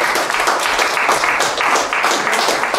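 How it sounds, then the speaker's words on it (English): Pub audience clapping continuously, a dense steady wash of many hands at close range with no break and no talk over it. "So big round of applause for yourselves for coming out tonight."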